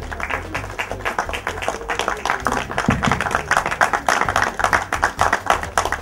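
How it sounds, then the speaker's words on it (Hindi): Live audience at a film first-look launch event applauds steadily, with dense, continuous clapping that swells slightly toward the end, loud and close, with no talking over it. "Please put your hands together."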